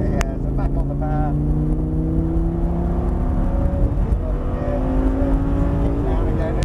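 An Audi R8 V10 accelerates on a race track, its engine note climbing steadily in a loud, close, smooth rising whine, with a driver speaking over it.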